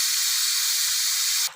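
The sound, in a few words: steam escaping from pressure cooker after lifting weight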